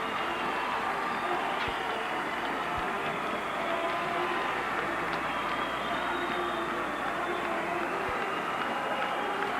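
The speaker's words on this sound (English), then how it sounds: "Listen to this crowd!" A crowd at a 1985 Hibbing versus Bemidji high school hockey game in the Memorial Building arena gives a sustained, dense roar that holds steady and loud for the entire stretch, with a few sharp knocks within it.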